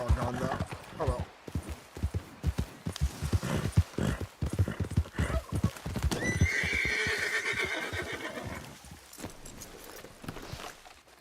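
Horse hooves clip-clop in a steady gallop rhythm in a ranch roleplay video game, followed by a loud, drawn-out neigh, with a person talking over much of it.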